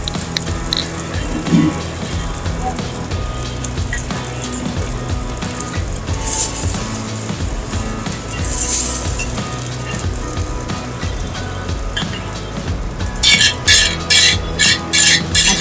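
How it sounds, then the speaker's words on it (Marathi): Surmai fish frying in a pan gives a loud, continuous sizzle and crackle of hot oil with occasional sharper spits, ending in a run of rhythmic clattering bursts. "अशा प्रकारे आपण सर्व फिश फ्राय करून घेऊ."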